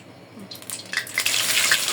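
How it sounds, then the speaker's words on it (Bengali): Spices going into hot mustard oil for mango pickle, starting quiet and then bursting into a bright crackling sizzle that builds and stays loud for the last second. "আমার তেল গরম হয়ে গেছে আমি পর্যায়ক্রমে সব মশলাগুলো দিয়ে দেবো আস্তে আস্তে"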